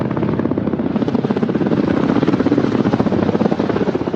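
Soviet Mi-28 or Ka-50 combat helicopter flying, a loud continuous rotor thump with fast rhythmic chopping over a dense engine roar, steady throughout.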